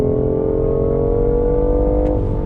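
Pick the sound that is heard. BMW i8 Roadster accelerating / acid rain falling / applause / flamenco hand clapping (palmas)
BMW i8 Roadster accelerating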